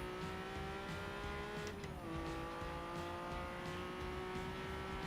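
Car engine in the racing game Forza Motorsport 7, played on a Thrustmaster TMX wheel: a steady droning hum that dips in pitch once as if shifting gear, continuous and moderately quiet.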